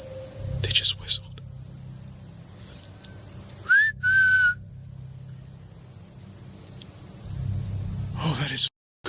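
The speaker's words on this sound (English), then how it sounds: "They just whistled." A person whistles in a dark forest at night: a short rising whistle followed by a brief steady tone, heard over a constant chorus of crickets and insects.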